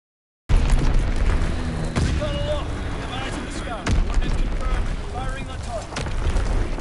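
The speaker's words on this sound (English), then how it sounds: "Dropping Azon bomb." An Azon guided bomb is dropped and explodes in a video game: heavy booming blasts and deep rumbling rolling over a dense, continuous battle din, with faint voices in the background.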